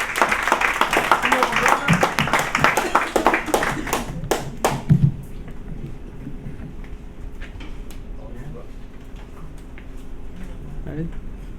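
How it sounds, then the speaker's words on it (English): Audience at a community open-mic gathering claps loudly and fast for about five seconds, then the clapping stops abruptly, leaving quiet room murmur and a few scattered taps. "Clap it up, clap it up"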